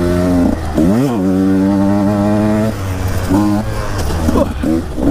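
A motorcycle engine on a hard trail at Perry Mountain, rising and falling through several loud, close revs with stepped pitch changes, pausing briefly before further blips.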